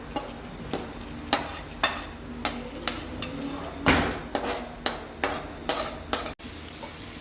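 A utensil scraping and knocking against a pot in a steady rhythm, about a dozen strokes, over a soft sizzling hiss, as ghee-fried rice is stirred into mutton biryani.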